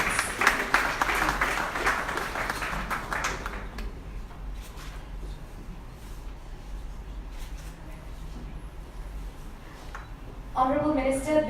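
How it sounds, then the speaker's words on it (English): Audience applause at a business CEO forum, a dense burst of clapping through the first few seconds that fades into room noise, followed by a voice starting to speak at the end. "Can we have a round of applause for Shiranti, please?"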